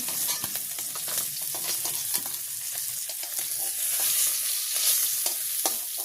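Bata fish sizzling and crackling in hot oil in a village kitchen, a steady close frying hiss with scattered pops and occasional stirring scrapes, no voices.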